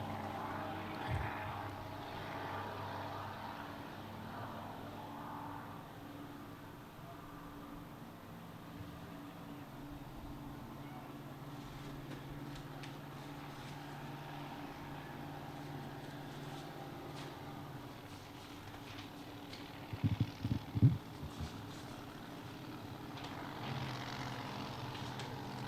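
The racing boat Destiny, driven by Blake Ramsey, drones steadily on the water at a distance for a long stretch, its engine a low sustained hum with a brief burst of closer clatter near the end.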